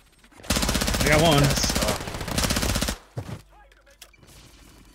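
Rapid automatic gunfire from the video game Call of Duty fills the first few seconds as a loud, dense burst of shots. A voice speaks over it before the clip falls quieter.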